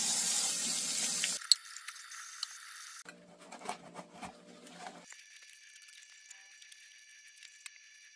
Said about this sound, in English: I wash the jars and lids first,